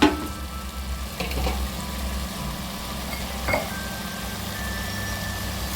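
Tomatoes with salt sautéing in a pressure cooker for mint rice: a continuous close sizzle with a few soft knocks of a stirring spoon near the start and middle, no voices.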